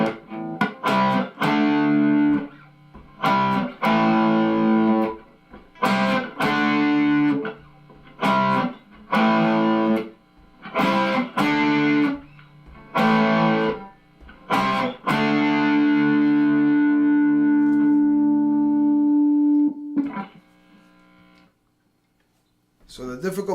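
Electric guitar strumming major barre chords through a distortion effect, a string of loud, sustained, buzzy chord hits in a steady rhythm with short breaks, the last chord ringing out longer before fading.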